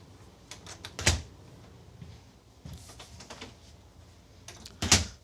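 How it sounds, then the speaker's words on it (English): A bathroom door in a 2018 Flagstaff Super Lite 832 OKBS travel trailer is shut indoors, giving a sharp bump near the start, scattered light clicks and rattles, then a second firm knock at the end. "you can also close this door over here"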